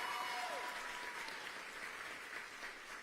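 Crowd applauding the assembled youth of Maryland at a public event with the governor and vice president, a dense, fairly faint wash of clapping that carries on steadily for a few seconds, with a brief voice or tone at the start.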